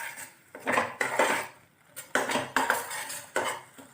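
A spoon scrapes and clanks around a metal pan while stirring a fish curry masala, in several rhythmic bursts of stirring with short pauses between, close and fairly loud, no talking.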